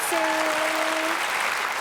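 Audience applause at the Raya Kustika concert, a steady wash of clapping from a crowd throughout, with a faint sustained tone running underneath for the first second.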